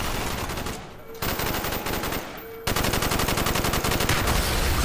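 Automatic weapons fire nonstop during a Call of Duty street fight, with dense rapid bursts that break off twice briefly and then come back louder and steadier, and a voice faintly mixed in beneath the shooting.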